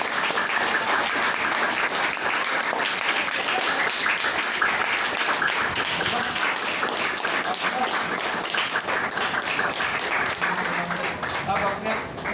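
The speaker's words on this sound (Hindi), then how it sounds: "तालियां बजाइए" A room full of people claps at a Sahaja Yoga meditation session held in a school in Chakkarpur, Gurugram. The applause is sustained and fairly loud, with some voices mixed in, and it thins out near the end.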